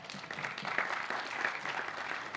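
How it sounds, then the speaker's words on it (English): Audience applause at a ClawCon tech conference in Copenhagen, honoring three award winners: a steady, moderately distant clatter of clapping that lasts the full few seconds without letting up. "Round of applause for the three winners."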